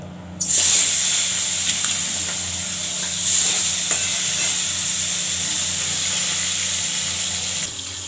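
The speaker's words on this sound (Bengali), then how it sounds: "এখন মাছের ঝোল এই যে মাছটাকে ছেড়ে দিচ্ছি" Pieces of bhetki fish hit a pan of curry with an abrupt, loud sizzling hiss that holds steady for several seconds before cutting off.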